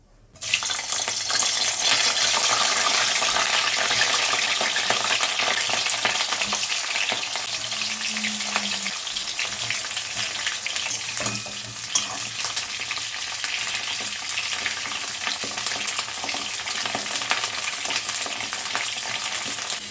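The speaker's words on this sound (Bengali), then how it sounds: "ফুলকপিগুলোকে ভেজে নিচ্ছি। কড়াইতে সরষের তেল দেওয়া আছে, তেল গরম হয়ে গেছে।" Cauliflower pieces fry in hot mustard oil in a wok, a loud continuous sizzle with occasional stirring scrapes, steady and close throughout with no talking.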